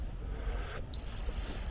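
A camera's two-second self-timer emits a steady, piercing electronic beep that starts abruptly partway through and holds continuously to the end, with a quiet outdoor background and no talking.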